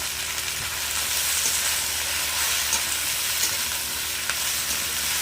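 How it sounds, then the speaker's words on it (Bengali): Okra frying in a pan with salt and turmeric, a steady dense sizzle running throughout with faint stirring clicks, fairly close and with no voices. "চাপা দিয়ে দিয়ে আমি ভেন্ডিটা ভেজে নেব।"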